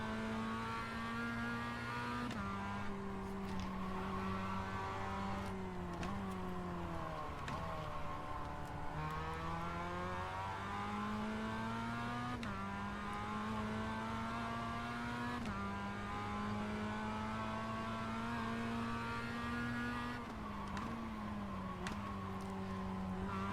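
Race car engine in the iRacing sim, droning loudly and continuously, climbing in pitch as it revs and dropping sharply at each gear shift throughout.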